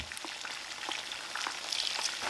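Noodles frying in oil in a pan, cooked in the oil almost like boiling, make a steady crackling sizzle with scattered pops that builds a little toward the end. The sound is close and carries no voices.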